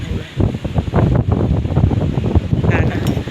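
Strong morning wind gusts buffet the microphone outdoors near flowering bougainvillea, a steady loud rushing roar with rumbling surges for the whole stretch.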